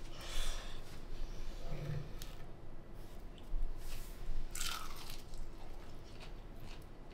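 Someone bites into a crunchy egg roll and chews it close up, with crisp crunches and wet chewing at an uneven rhythm and no talk.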